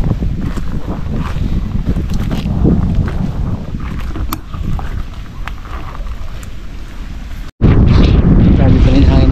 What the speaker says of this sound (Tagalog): Grabe pa rin hangin medyo.